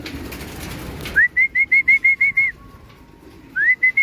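A pigeon at a loft gives a series of about eight short, clear whistled notes in quick rhythm, then a pause and another pair, loud and close after a noisy start.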